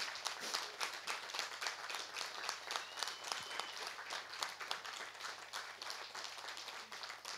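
Sustained crowd applause from an audience, dense and even clapping that holds steady throughout at moderate loudness, with no voices over it.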